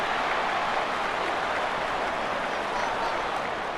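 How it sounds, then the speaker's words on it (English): Stadium crowd noise from the Football Rivals college football video game forms a dense, constant roar at steady loudness for the whole stretch, with no break. "I understand the quarterback shouting and he's clapping and there's all this crowd noise"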